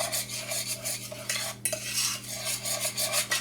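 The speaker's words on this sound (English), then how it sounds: "I want to mix all my chocolate into the sugar" Chocolate being stirred into sugar in a pot off the heat for fudge, a continuous scraping, swishing stir with rhythmic strokes, close and clear with a steady low hum underneath.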